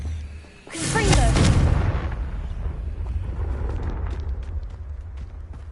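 A Confringo blasting curse explodes in a wizarding video game: one loud, booming blast that swells quickly and then fades into a long rumbling tail.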